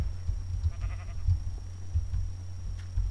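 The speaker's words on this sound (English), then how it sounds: "Stupid sheep." Sheep in the Minecraft video game give several short bleats at a steady pace over a low constant background hum, with no talking.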